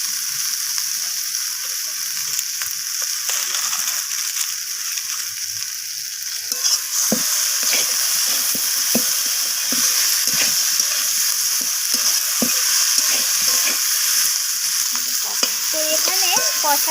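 Vegetable chorchori of kohlrabi, flat beans and brinjal sautés in rohu fish oil with a loud, steady sizzle, broken by repeated scraping and clacking strokes of stirring; no voices.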